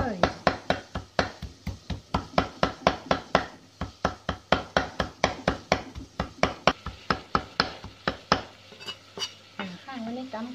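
Rapid, steady knife chops on buffalo meat being minced for Thai laab, loud and close, dozens of sharp rhythmic thuds on a board, slowing near the end as a voice comes in.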